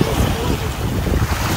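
Sea waves wash onto a beach, stirring up sand in a loud, rushing surge with heavy wind buffeting the microphone, a continuous churning roar close by.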